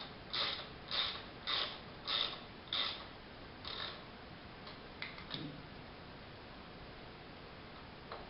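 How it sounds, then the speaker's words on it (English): T45 driver working a brake lever bolt in a shop, giving six evenly spaced ratcheting clicks followed by a few fainter ticks and a soft metallic knock, close and quiet with no talk. "Using the T45 driver, we're going to remove the bolt."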